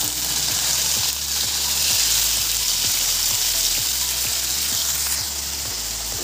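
Whole eggplant frying in hot oil in a frying pan gives a loud, steady sizzle and crackle throughout, with no talking.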